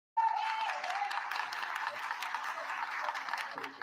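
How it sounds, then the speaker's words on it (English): A room full of people at a village board meeting gives Keith Freeman a round of applause, a dense, steady wash of clapping that starts abruptly and holds at full strength throughout. "So I'm going to ask if everybody can give Keith Freeman a round of applause."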